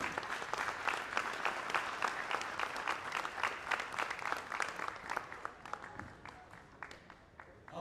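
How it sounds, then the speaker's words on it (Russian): Audience applause for MMA fighters after a bout decided by a doctor's stoppage, dense steady clapping from a crowd that fills the whole stretch and tapers slightly near the end. "Аплодисменты бойцам, друзья."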